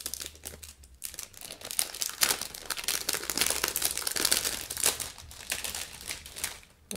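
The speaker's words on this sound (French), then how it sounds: "Si j'arrive à ouvrir le sac." A plastic bag of scrapbooking embellishments being pulled open, giving continuous crinkling and rustling with brief tearing bursts, close and moderately loud.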